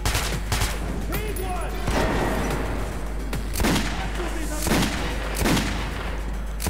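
Gunfire in the video game Metro, a dense string of loud, rapid shots with echoing booms over a constant game background, sharp reports repeating throughout.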